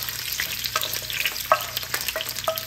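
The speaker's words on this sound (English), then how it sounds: "So the oil is hot. In goes all the onions." Chopped onions hitting hot oil in a home kitchen, sizzling steadily and close, with a few brief bright clicks and scrapes of utensils over the hiss.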